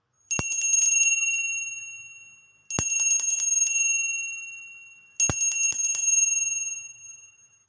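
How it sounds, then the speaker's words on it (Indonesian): Three clear, bright bell strikes marking the start of a meditation reading, each ringing out and slowly fading before the next, evenly spaced about two and a half seconds apart. "dimulai dengan tanda lonceng berbunyi."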